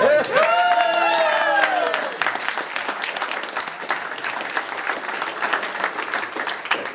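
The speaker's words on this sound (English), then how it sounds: "I can tell it wasn't much by the applause." An audience applauds a magician at a close-up magic show, cheering voices rising over the clapping at the start, then steady clapping that carries on loudly.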